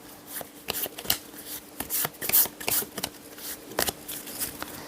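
A deck of tarot cards is shuffled by hand, giving quick papery riffles and flicking slaps in irregular bursts, close and moderately loud with no talking.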